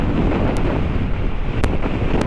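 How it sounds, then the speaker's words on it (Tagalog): Loud gusting wind pummels the microphone in a continuous low roar while riding a Honda Click 150i scooter on a North Luzon road in the Philippines, nothing else audible through it. "Grabe hangin, lakas."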